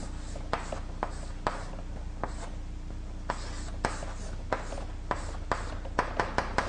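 Chalk or marker strokes scratch across a board in short irregular taps and swipes, quickening toward the end, close and fairly quiet with a low room hum beneath.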